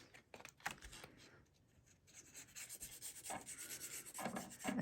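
Paper on a mini album belly band is burnished: quiet rubbing and scraping strokes come in short irregular bursts, close and faint.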